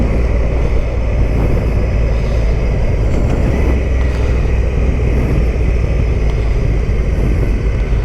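A ridden Honda motorcycle keeps up a continuous, even engine drone mixed with wind rush. The level stays unchanged throughout and no one speaks.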